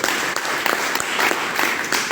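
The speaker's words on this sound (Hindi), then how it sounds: "ताली जोरदार होनी चाहिए।" An audience applauds loudly and continuously, a dense wash of many hands clapping at a rally-style business motivational event.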